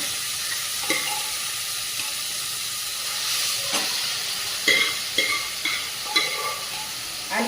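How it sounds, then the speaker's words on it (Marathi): Carrot halwa sautéing in ghee in a kadhai, with a steady close sizzle running throughout and several sharp scraping stir strokes standing out near the end; no talking. "चांगला परतून घ्यायचा आहे व्यवस्थित छान असं तुपामध्ये आधी परतून परतून घ्यायचा"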